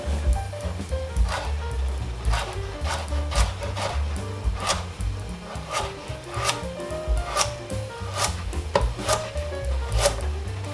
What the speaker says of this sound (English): So now we're just gonna cut our carrots, and you're just gonna cut them at an angle.